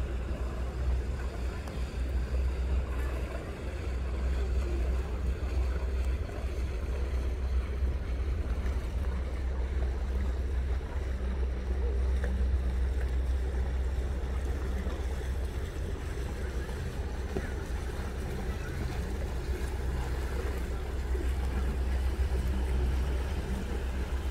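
A boat cruises through the harbour at Sneek in the Netherlands, a steady low engine rumble with wind and water wash running unbroken throughout, fairly loud and close, with no voices on top.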